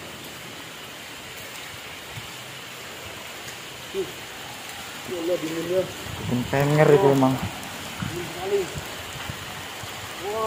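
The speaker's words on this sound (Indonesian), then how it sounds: "Tuh, hujan tambah deras nih, sobat-sobat." Heavy rain pours steadily as a broad, constant hiss throughout, with people talking partway through over the downpour.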